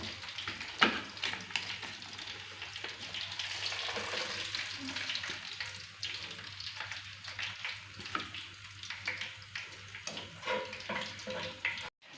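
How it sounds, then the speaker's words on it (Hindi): Fish frying in oil for a crispy, spicy Nawabi-style fry, a steady close sizzle with crackling bursts and soft stirring scrapes running throughout without a break. "मछली फ्राई हो चुकी है और माशाल्लाह बड़ी मसालेदार और करारी स्पाइसी बनी है।"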